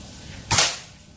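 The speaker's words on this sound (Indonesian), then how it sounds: "Tembakan yang kedua" A single sharp crack from a folding Predator Python PCP air rifle, 40 cm, with a dural air tube charged to 2700 psi, fired manually as a close, loud shot with a brief fading tail over quiet background.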